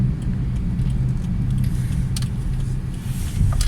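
Inside a car being driven, a steady low engine and road rumble fills the cabin, with faint rattles and small clicks on top, continuous and fairly loud.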